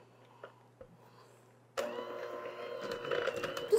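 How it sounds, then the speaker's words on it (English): An electric hand mixer beats butter and shortening together in a bowl, switching on abruptly after a quiet moment into a steady whirring drone with rattling of the beaters, loud and close. "I'm going to be using my hand mixer, or you can use your stand mixer. We're going to beat the butter and the shortening together"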